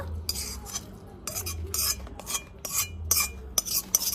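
Spicy Maggi noodles are served with metal utensils, bursts of scraping and clinking against a pan or dish in uneven rhythm, close and fairly loud, with no talk.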